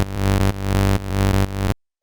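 A basic oscillator tone from the Serum synth, set up as the start of a bass pluck, plays as a buzzy, harmonically rich sustained bass note in a few repeated pulses before cutting off abruptly.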